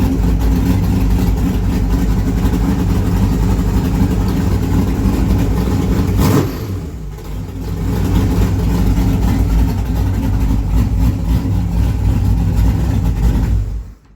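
An Isuzu Trooper engine idles slightly fast, sucking air through a makeshift PCV setup, with a steady close rumble that briefly dips midway before settling back to an even idle.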